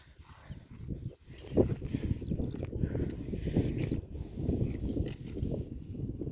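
Steady clip-clop of working horse hooves on hard ground, close by, with a low rumble of movement and occasional louder hoof strikes.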